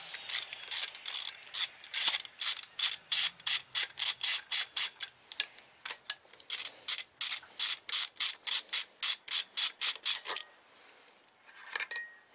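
A ratchet with a 16 mm socket and extension works on a VR6 engine during a teardown: a rapid run of crisp, close metallic clicks in steady bursts, followed by a short pause and a final few clicks.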